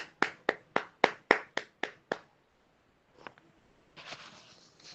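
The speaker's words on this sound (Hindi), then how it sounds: "हम पूनम सिस्टर के लिए हम ऊंची ताली देंगे" A small group at a church day gathering claps for a sister in about nine sharp, evenly spaced claps, then stops, leaving a couple of faint taps and some soft rustle.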